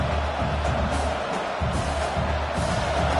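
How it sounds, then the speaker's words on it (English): Steady stadium crowd roar at a UCLA versus Cal college football game, a broad continuous wash of many voices with a low rumble underneath, holding level throughout with faint cheering swells. "This crowd bringing the energy and noise early."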